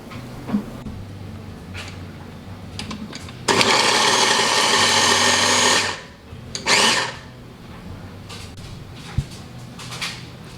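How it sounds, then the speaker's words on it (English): A food processor blends chopped pork and vegetables in two bursts, a loud whirring run of a few seconds followed by a short pulse, with quiet kitchen noise in between. "Now I'm gonna pop them in the food processor and kind of blend them together."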